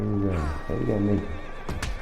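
A horse in the Red Dead Redemption 2 video game gives a loud, close whinny lasting about a second, followed by a couple of clip-clop hoof sounds, with voices talking alongside.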